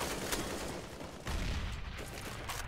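Rapid gunfire from Counter-Strike: GO match play on the Train map, a sharp AWP sniper shot among dense overlapping shots, loud and continuous with a swell in intensity midway.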